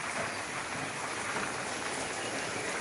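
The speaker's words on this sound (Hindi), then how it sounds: "अरे यह तो बहुत तेज बारिश है" Heavy rain pouring steadily as a dense, even broadband hiss, close and constant throughout with no voices.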